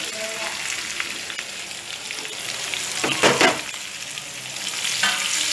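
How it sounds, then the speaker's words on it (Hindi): Stuffed okra (bharwa bhindi) sizzles as it is stirred in hot oil with spice masala, a steady close frying hiss with soft scraping of the spoon and a louder burst of stirring midway. "इसको अब मिलाएंगे 2 मिनट के लिए अच्छी तरह से, जिससे ये तेल में पक जाएगी सारी"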